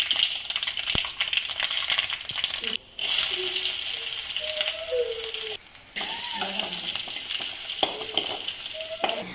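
Mustard seeds, fenugreek, onion, curry leaves and dried chilli spit and sizzle in hot coconut oil for a Kerala sambar tempering, a loud close crackle with brief pauses and a person speaking over it.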